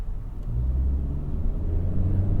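A 2023 Honda Accord 1.5T accelerating to highway speed, heard from inside the cabin as a steady low engine and road rumble that builds a little, with no talking.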